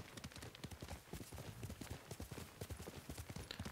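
Rhythmic clip-clop of video game horse hooves trotting at a steady pace, crisp and fairly close, with no voices, from Ghost of Tsushima.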